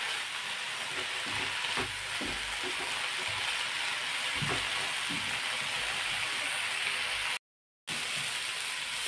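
Amaranth greens (tandulja) cooking in a pan, a soft continuous sizzle with occasional light stirring clicks and scrapes, quiet and close, broken by a brief gap of silence.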